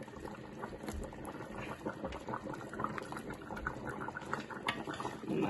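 Goat foot broth bubbles at a hard boil in a pot, a constant soft churning and popping close by, with no talking over it.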